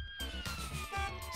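An ambulance siren in a small indie video game wails in a steady tonal sweep, fairly quiet and slightly falling in pitch, with a low engine-like hum beneath it.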